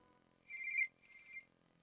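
A telephone rings with two short electronic trills, the first longer and louder, the second softer, in an otherwise quiet room.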